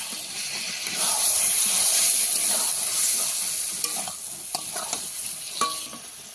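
Spices being sautéed in a pan with a splash of water, giving a loud hissing sizzle that eases off as a spatula scrapes and taps the pan in a few strokes, close and without talk.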